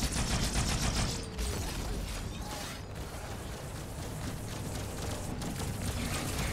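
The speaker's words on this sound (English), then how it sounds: "Who's shooting at me?" Sustained, loud automatic gunfire in Halo 2 combat, a dense rattling barrage of rapid shots that hammers on almost without pause for several seconds with brief dips in intensity, heard alone with no voices.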